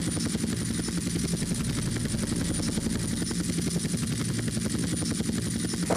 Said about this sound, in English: Suspect lost two in a green helicopter.